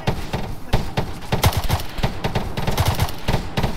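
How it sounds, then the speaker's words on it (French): Gunfire in Arma 3's Altis Life mod during a police shootout, with repeated sharp shots in irregular bursts across the whole stretch, fairly loud. "Ouais, ça tire."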